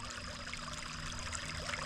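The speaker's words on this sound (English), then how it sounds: "Little creek next to me." A small creek flows beside a riverbank campsite, giving a steady, close trickling and babbling of water with no pauses.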